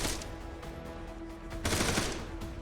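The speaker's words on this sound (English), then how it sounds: "They gunned down poorly defended police officers, who only had pistols to defend themselves." Dense automatic rifle fire in the Arma 3 video game, a continuous loud fusillade of overlapping shots with a swell of heavier bursts partway through, and no voices.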